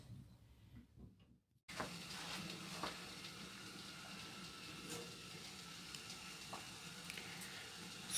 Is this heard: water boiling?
yes